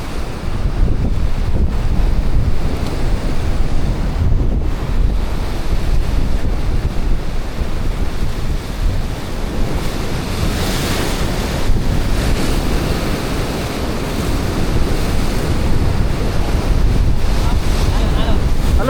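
Ocean waves surge and wash continuously, heavy wind buffeting the microphone throughout with a steady, loud roar.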